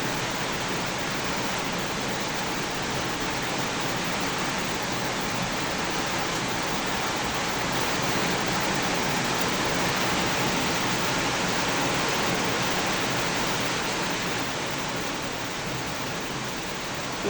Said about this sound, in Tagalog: hangin at saka lakas ng ulan